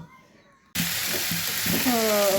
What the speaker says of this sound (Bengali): আর একটু শাক ভাজি করব